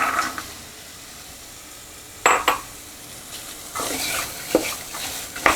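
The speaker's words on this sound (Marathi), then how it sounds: "आता हा मटारही थोडासा या ग्रेव्ही बरोबर परतायचा आहे" Green peas are sautéed in gravy in a pan for a Pune-style matar usal: a soft sizzle runs underneath while a spoon stirs and scrapes in several short clattering bursts.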